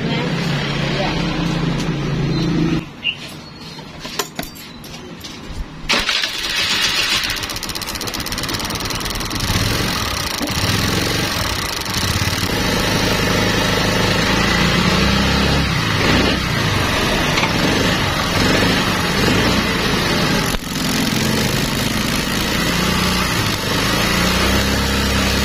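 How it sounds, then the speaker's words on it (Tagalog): A TVS Dazz motorcycle with a newly fitted four-pin CDI starts up and settles into a steady, close idle, its buzzing engine running continuously after a brief sputtering start, with someone talking over it. "masusubukan na natin kung aandar ba talaga itong motor na ito"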